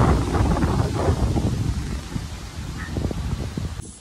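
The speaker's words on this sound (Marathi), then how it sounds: "कायच वारा बघा असं डेंजर सुटलं वारा" Strong gusting wind buffets the microphone with heavy roaring bursts that ease slightly toward the end.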